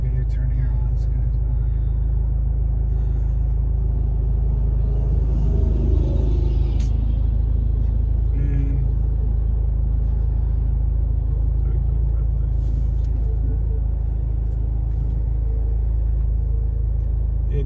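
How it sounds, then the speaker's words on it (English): A 2019 Honda Accord 2.0T with a custom tune makes a U-turn, its engine giving a deep steady rumble from inside the cabin throughout, with people talking over it. "I'm just gonna make a U-turn here"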